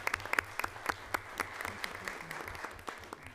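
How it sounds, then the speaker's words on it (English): Scattered audience applause at a school board meeting, individual claps standing out as distinct sharp hits over a thinner background of clapping, fairly faint and distant in the hall. "Let's give David a big round of applause."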